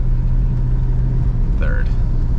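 Emberglo 66 GT car engine idling low and steady, with a short rising whine from a gear change near the end; no voices.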